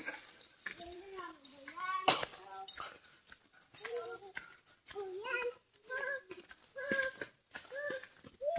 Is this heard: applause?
no